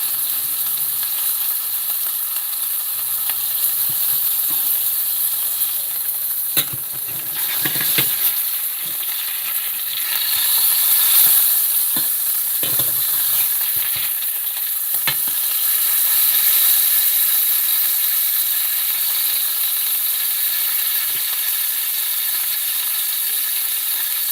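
Steady sizzle of patties frying on a hot griddle, with occasional scraping and clinks of a spatula pressing the meat.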